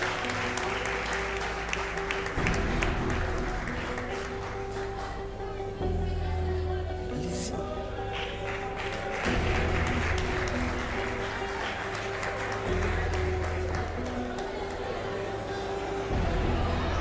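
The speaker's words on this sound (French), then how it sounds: "On applaudit s'il vous plaît." Applause from the audience at the Maajabu Talent season finale prize giving, steady clapping and crowd chatter carried under loud stage music with a droning beat that rises and falls throughout.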